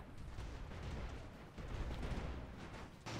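Airship cannons in Airships: Conquer the Skies fire in a fairly faint, continuous rumbling barrage of overlapping booms, with one fresh blast near the end.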